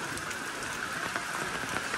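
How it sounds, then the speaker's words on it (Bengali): Heavy rain falling in the Darjeeling hills during the monsoon, a dense and continuous hiss of drops hitting surfaces, steady and close throughout with no voices. "আর এত বৃষ্টি হচ্ছে মানে বৃষ্টির মধ্যে প্রচুর সমস্যা, প্রচুর।"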